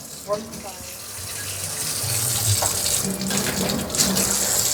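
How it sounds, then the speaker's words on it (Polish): Steady running water from a tap fills the background, a continuous hiss with faint splashing, and a voice speaks softly over it. "Nie martwcie się, że to woda z kranu."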